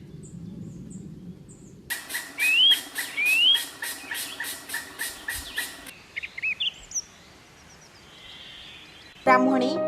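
Birds call in Bhitarkanika National Park, a mangrove delta in Odisha, with a series of loud, rhythmic repeated calls and rising whistled notes nearby, followed by scattered fainter chirps and a brief sharp burst at the end.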